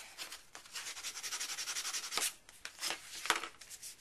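Paper is burnished onto a mini-album page with quick, rhythmic rubbing strokes, soft and close, followed by a few sharper scraping swipes.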